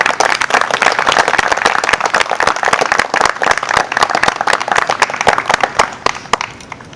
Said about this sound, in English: Can we just get one more round of applause?